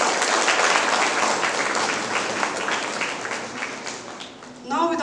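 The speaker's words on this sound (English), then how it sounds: "A big round of applause for all the dignitaries present amongst us" A crowd at a literary festival opening ceremony gives a big round of applause, dense steady clapping that fills most of the stretch before fading, with a voice starting to speak at the end.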